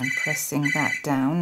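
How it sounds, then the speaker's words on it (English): A telephone rings in a home craft room with a steady electronic ringing tone, heard clearly beneath someone speaking close to the microphone. "and that's the phone and my husband will get it."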